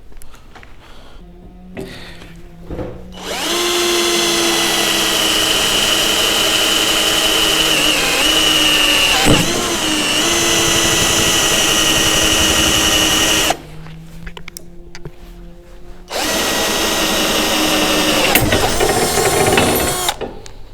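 A power drill bores holes into an old metal fence being readied for hot-dip galvanizing, its loud, high whining drone running in long bursts with brief pauses between them.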